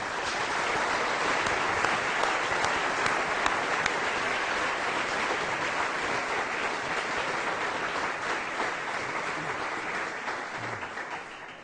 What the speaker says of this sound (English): can I invite you to give him a very warm round of applause for this.